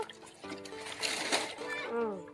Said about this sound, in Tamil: இப்போ நம்ம நல்ல ஆத்துல கழுவ போறோம்.